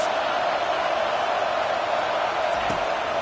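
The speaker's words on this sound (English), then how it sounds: "Listen to this crowd just shaking the girders of this place, trying to help their defense." A college football stadium crowd roars in a dense, continuous wall of cheering that fills the stands while the defense is on the field, loud and sustained throughout.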